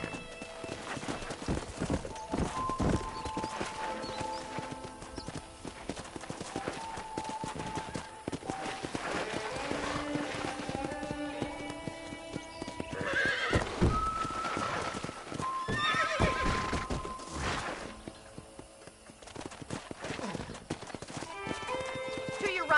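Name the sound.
horse galloping in a video game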